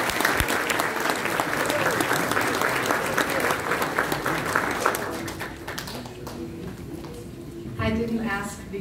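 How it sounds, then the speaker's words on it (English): Audience applause at an interfaith iftar dinner at a Turkish community center, loud dense clapping filling the room for about six seconds, then thinning out as a voice begins speaking over the fading claps. "Can I hear a round of applause for her,"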